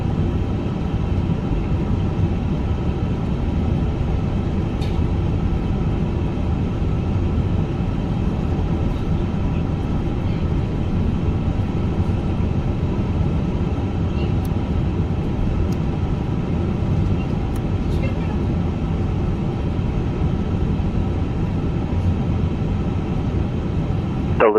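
An iniBuilds A350 airliner rolls for takeoff in Microsoft Flight Simulator 2024, its jet engines a steady, loud, unbroken roar that holds for the whole stretch with no voices.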